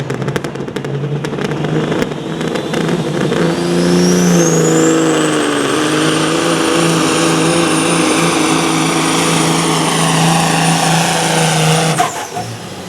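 A competition pulling truck roars under heavy load at a truck pull, a loud, steady, sustained engine howl with a whining pitch that rises and holds for about ten seconds before cutting off abruptly.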